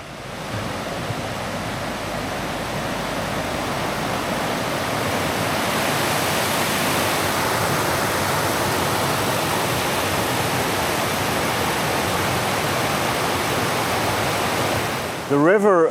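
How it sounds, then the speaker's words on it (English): A river rushes steadily into a cave, making a broad, continuous roar of water that stays loud and even for the whole stretch. A brief rustle comes at the very end. "there's a lot of water sound."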